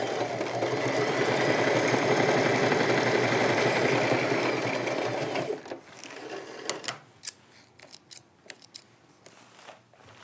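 A sewing machine runs in one continuous, fairly loud stretch while stitching a zipper bag lining, then stops, followed by sparse clicks and handling noises, with no talking.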